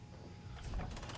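A door slides open in the video game Fallout 3, a short mechanical whoosh and rumble that swells after a quiet start, moderately loud and heard alone without talk.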